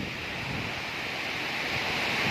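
Typhoon Odette's powerful wind roars steadily and loudly, a dense continuous rush with no letup and no voices.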